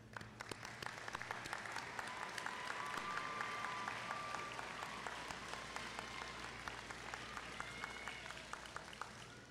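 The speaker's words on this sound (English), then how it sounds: "So I want you to give them a round of applause." A graduation ceremony audience applauds at Breckenridge High School, steady crowd clapping heard at a distance and fairly quiet, sustained without a break.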